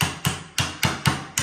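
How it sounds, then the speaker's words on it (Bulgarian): A child bangs a toy hammer at the Peperuda children's play house: six sharp, loud knocks in a fairly steady rhythm, close by, with no voices. "Започва детето да чука."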